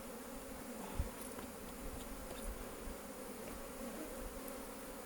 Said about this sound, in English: the bees will soon readjust the wax chambers